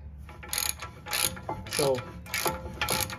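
A ratchet tightens the brake caliper bolts on a Mercedes ML350, making several short bursts of rapid clicking close up, with brief pauses between strokes and a faint voice at one point.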